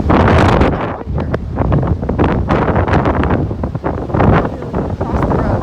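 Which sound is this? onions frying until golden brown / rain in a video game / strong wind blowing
strong wind blowing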